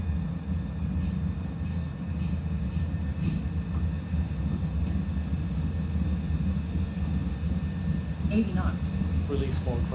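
Cargo airliner engines on a Raya Airways flight from Labuan, spooling up for takeoff: a loud, steady low roar and rumble that builds slightly, with a faint hiss above.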